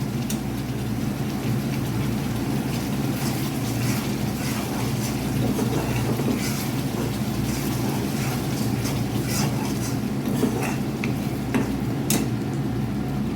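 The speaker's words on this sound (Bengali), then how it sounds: "মশলাটা ভালোভাবে কষে গেলে পরে আমি এর মধ্যে কচুটা দিয়ে নেব।" Spice paste sautéing in oil for a taro curry, a steady soft sizzle and crackle with scattered spattering pops and occasional stirring, continuous and fairly quiet.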